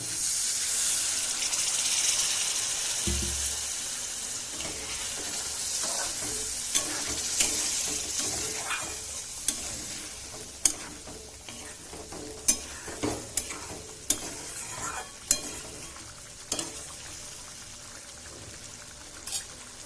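Water in a pan with potato bhaji curry bubbles and hisses steadily, with scattered clinks and stirring taps of a spoon against the pan in the second half, close and fairly quiet with no talk.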